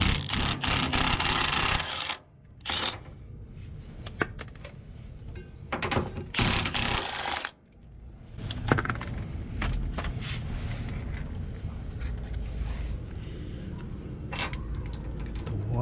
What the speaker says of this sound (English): next what we're gonna do is remove these two 19mm bolts, or nuts actually.